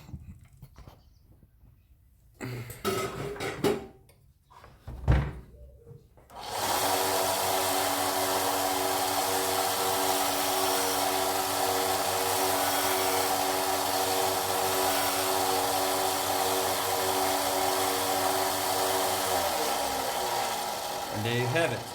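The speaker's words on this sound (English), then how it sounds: "go back to my belt sander quickly and just clean up the face" A belt sander runs continuously at a steady whine and rumble as it cleans up the face of a small wooden wolf head pendant. Some brief clattering and a short burst of motor noise come before it.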